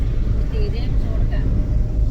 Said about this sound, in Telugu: చాలా కార్లు ఉన్నాయి ఎదుర లారీ